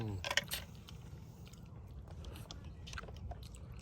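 Crispy steamed herbal chicken is bitten and chewed close up, a few crunchy bites early, then quieter munching with soft crunches toward the end, mostly without talk.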